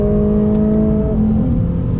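A 2019 Lexus RC350 F-Sport's naturally aspirated engine revs loud and close from inside the car, a strong steady drone that shifts pitch partway through as the revs change.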